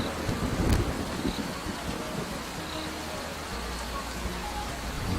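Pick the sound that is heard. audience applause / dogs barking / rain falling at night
rain falling at night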